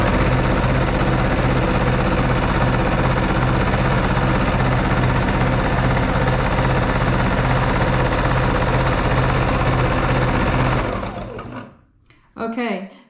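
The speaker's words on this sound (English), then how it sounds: "I start with a circle that I go round and round to kind of lock those stitches in" A Baby Lock Jazz II sewing machine stitches continuously at steady speed during free-motion quilting, a loud close mechanical whir with a rhythmic needle beat. It stops abruptly near the end, leaving brief quiet handling sounds.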